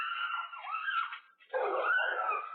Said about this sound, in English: There comes a dog, full throttle.